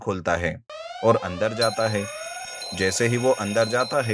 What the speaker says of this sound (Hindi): दरवाजा अपने आप बंद हो जाता है और अलार्म बजने लगता है